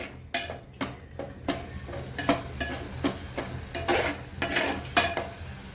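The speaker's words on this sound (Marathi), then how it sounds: "मसाले चांगले परतून घेऊया आपल्याला तेल सुटेपर्यंत" Spices sautéing in oil in a pan for dal makhani, stirred with quick rhythmic spoon scrapes and clinks against the metal over a low sizzle, close and with no talking.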